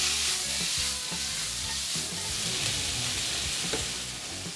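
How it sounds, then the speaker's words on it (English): Sausage gravy made with cream and roux simmers and is stirred in a pan, a close, continuous bubbling sizzle with soft spoon scrapes and no one talking. "I'm going to give this a stir, and once this comes to a simmer, that cream is going to bond with that roux"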